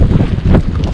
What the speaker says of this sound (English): Wind's starting to pick up.